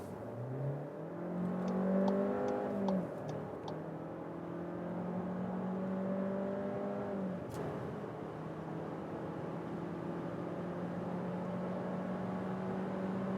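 A VW Tiguan with an automatic gearbox accelerates hard from 60 to 150 km/h, engine drone rising steadily in pitch and dropping back at each upshift, heard from inside the cabin as a continuous, fairly loud hum.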